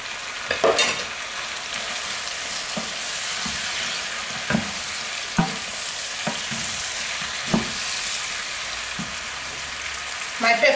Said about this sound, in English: My pepper goes in as well.